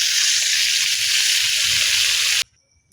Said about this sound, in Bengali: পটল কিন্তু দেখো বেশি ভাজবো না, এভাবেই ভেজে নেব।